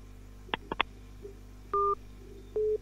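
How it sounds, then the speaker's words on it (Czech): Telephone tones as a caller is connected to a Czech radio call-in show: three quick dialing beeps followed by two longer steady tone bursts, clean and fairly loud over a low hum, with no voices. "Tak, máme tady další telefonát."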